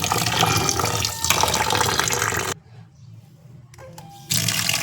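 Water pours and splashes steadily as fresh homemade butter from cow's milk is washed, then cuts off into near quiet before the running water starts again at the end.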